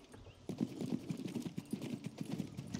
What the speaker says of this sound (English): this horse is pretty slow.